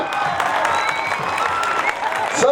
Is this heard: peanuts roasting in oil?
no